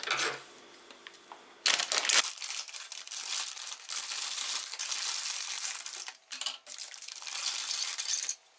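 Thick plastic packaging bags holding toys from an online store are crinkled and handled up close, giving loud crackling rustles in bursts with short pauses between them.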